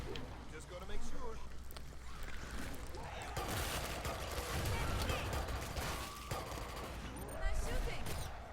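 Dense, sustained gunfire from the Killing Floor 2 shooter video game, loud continuous bursts and volleys running throughout under faint voices.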